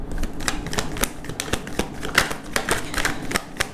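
Tarot cards being shuffled by hand in rapid, crisp riffling bursts of papery clicks and flutters, close and fairly steady over a few seconds with no talking.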